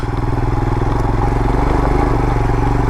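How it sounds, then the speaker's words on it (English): 2022 Royal Enfield Himalayan single-cylinder motorcycle riding through desert, a loud, close, steady low thumping engine pulse under mild wind. "this is one torquey motorcycle"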